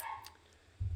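Dogs bark in a home, with a brief faint yelp early and then a louder low bark burst at the end of the short moment, no talk.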